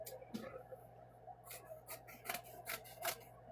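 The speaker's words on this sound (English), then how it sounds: "what I'm going to do is cut this off on this edge" The edge is being cut off a piece of quilting fabric, giving several faint, crisp snipping strokes close by over a low steady hum, with no talk.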